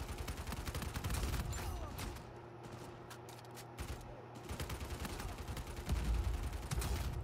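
Dense, rapid gunfire in the Uncharted 4 video game, with overlapping automatic bursts and single shots crackling almost continuously, briefly thinning to a lull in the middle before resuming at full intensity.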